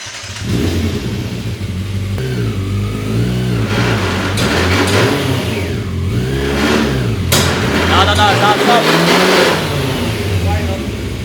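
A motorcycle engine revs up and down repeatedly during a burnout, loud and close, with voices talking over the engine throughout.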